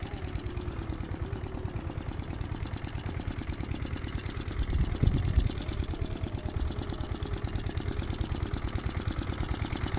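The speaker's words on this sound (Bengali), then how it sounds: "তো মোটর, এখানে মোটর করে জল দিচ্ছে এখানটা।" Motor pump running steadily to irrigate a field of guava trees and mustard, a continuous mid-pitched engine drone with a fast pulsing beat, close by and alone, briefly louder near the middle.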